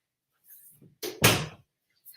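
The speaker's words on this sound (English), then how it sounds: "Let me shut the door." A door being pushed shut indoors: a soft rustle, then a brief swish and a firm, solid thud close by, followed by quiet.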